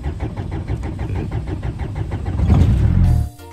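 A car engine in Guinea-Bissau cranks through a steady run of rhythmic starter turns, then catches and swells into a louder running roar before cutting off abruptly; no voices are present.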